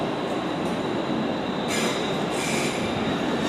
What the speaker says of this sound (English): there is a 350, I think it's 350-103 with the 1105 London Midland service to Tring.